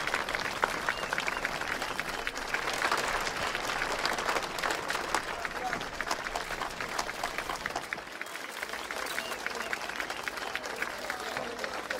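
Sustained applause from an audience at an award presentation, dense even clapping for the whole stretch, loud and unbroken.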